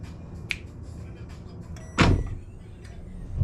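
A magnetic auto-open heat press for DTF T-shirt printing pops open by itself at its timed release, a sudden loud clunk and release near the middle, preceded by a faint click and light room noise.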